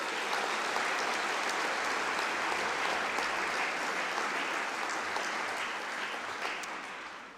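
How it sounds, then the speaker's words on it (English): Graduates at a Melbourne Polytechnic graduation ceremony clapping for themselves, a sustained, dense round of applause from a large indoor crowd that holds steady, then fades slightly at the end. "Please give yourselves a huge round of applause"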